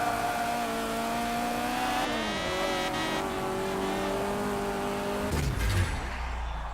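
A race car engine in the Forza 7 racing game holds a steady, loud high-pitched whine, with a gear shift partway through and a brief rough burst near the end.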